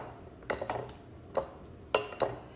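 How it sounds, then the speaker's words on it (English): A spoon clinks against a bowl while matzo ball batter with parsley and dill is mixed, a few sharp, close taps in small clusters over a quiet background. "And I'm gonna continue to mix this in."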